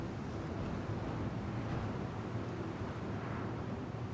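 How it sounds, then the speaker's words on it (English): Wind blowing in Star Citizen, a steady, fairly faint low rumble of gusting air that runs on without a break and with no voices. "Beautiful, bit windy."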